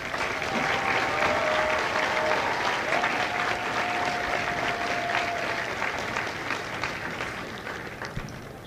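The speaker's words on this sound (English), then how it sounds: "please join me in a round of applause for the company staff of Company L" Broad crowd applause at a Marine Corps recruit graduation ceremony for Lima Company at MCRD San Diego. The clapping is thick and continuous, with a faint whistle-like tone early on, before easing off slightly toward the end.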